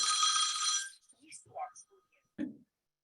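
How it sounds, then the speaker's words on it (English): A phone rings briefly at the start of a community presentation on emergency housing repair programs, a bright tonal burst for about a second, followed by a few faint sounds and a short spoken remark. "my phone is ringing."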